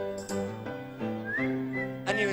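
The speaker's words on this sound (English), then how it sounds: "A whistling gentleman had come to visit me." A man whistles a melodic tune alone, several clear sustained notes with slides and short breaks between phrases, close and fairly loud with no talking.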